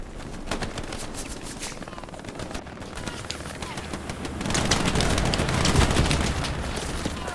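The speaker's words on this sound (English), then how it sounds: "Oh, the MG fire." Rapid machine gun bursts rattle through a Glow's Battlegrounds battle, loud and dense, swelling into heavier sustained fire with booming impacts mixed in.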